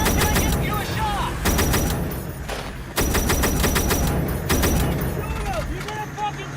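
Dense battlefield gunfire in real combat: rapid bursts of automatic fire and single shots crackle loudly and almost continuously, with shouting voices mixed in.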